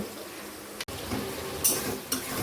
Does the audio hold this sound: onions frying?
yes